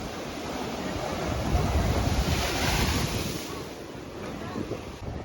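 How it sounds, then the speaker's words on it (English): Ocean waves crash against rocks at the Bandra Bandstand promenade in Mumbai, a loud continuous roar of surf and spray with wind buffeting the microphone, swelling slightly in the middle. "Every wave is different. Some gently roll over the rocks, while others explode into towering splashes that can reach several meters into the air."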